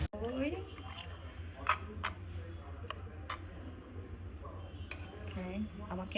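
Serving dishes clink and clatter in a kitchen as they are brought and handled, scattered light knocks and taps spread across several seconds beneath someone talking.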